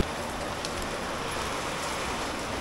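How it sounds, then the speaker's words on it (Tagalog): Light, steady rain on the Philippine streets, falling for close to an hour: an even, unbroken hiss of drops on surfaces, with no voices. "Pero ito mahina, pero mag-iisang oras nang umuulan."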